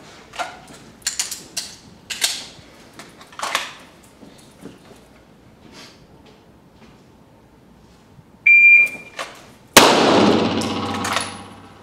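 After scattered clanks and clicks, a shot timer gives one sharp electronic beep, followed by a loud gunshot from a pistol draw at a shooting range.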